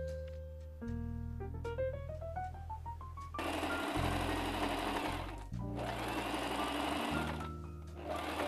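A sewing machine stitches lace along fabric edges, its motor whirring in steady bursts that stop and start, with rapid needle chatter and rising mechanical tones; no talking.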